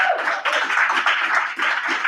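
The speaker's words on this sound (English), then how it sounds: "I'm just going to give them a round of applause" Applause for newly reappointed council members at a Lawrence Township municipal council meeting, a steady patter of hand claps from a modest room audience lasting throughout, with no talk.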